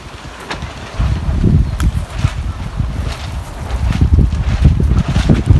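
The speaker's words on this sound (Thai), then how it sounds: "ลมแรงคักจ้ะ" Strong wind at an outdoor strawberry farm buffets the microphone with a loud, low, gusting rumble that swells and eases throughout, with no clear speech.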